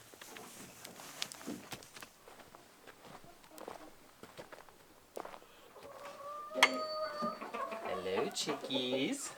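Chickens in a coop cluck and chatter softly, growing busier and louder toward the end, with footsteps nearby and someone talking quietly.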